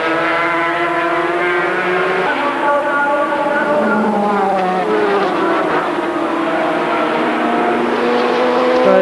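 500cc Grand Prix motorcycles racing at Suzuka in 1993, with a continuous howl of two-stroke engines rising and falling in pitch as they pass and shift. A race commentator talks over the loud, steady engine noise.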